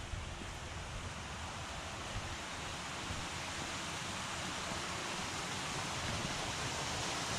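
Water pours over a weir beside an old watermill, a steady, faint, even rush of broadband noise with no change in rhythm and no voices.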